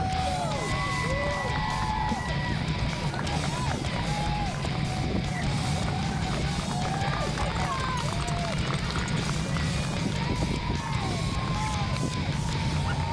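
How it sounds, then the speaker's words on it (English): Roadside spectators at a wheelchair road race in Falmouth Heights crowd the barriers, cheering, clapping and yelling in a dense, loud, continuous wall of voices near the final hill. "Cowbells, clapping, people leaning over the barriers, yelling names, yelling mine."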